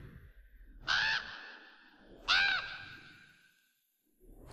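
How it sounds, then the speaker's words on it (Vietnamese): Two drawn-out, hoarse calls from an owl, each rising sharply and then trailing off, spaced about a second and a half apart against a quiet night background. "Có thêm cả tiếng chim heo nữa."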